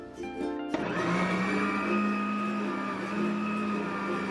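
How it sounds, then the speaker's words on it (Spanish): A kitchen blender purées zucchini squash with tomato, onion and jalapeño, its motor kicking from a low hum into a loud, steady churning roar that holds throughout. "Ahora lo que voy a hacer es licuarlo."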